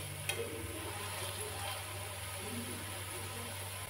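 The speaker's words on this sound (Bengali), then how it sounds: "এবার এগুলো তেলের মধ্যে দিয়ে ভেজে নেব।" Spiral-cut potatoes fry in hot oil with a steady, close, even sizzle and crackle throughout, and no voices.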